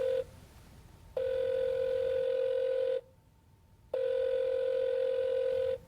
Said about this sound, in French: À la 3e sonnerie, son correspondant décroche